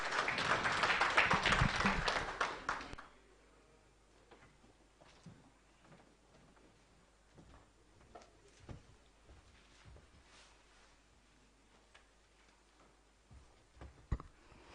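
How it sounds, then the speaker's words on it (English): Applause from a conference audience for a presenter at an electricity transmission research conference, a loud burst of clapping lasting about three seconds before cutting off to quiet room noise with scattered faint knocks. "A round of applause."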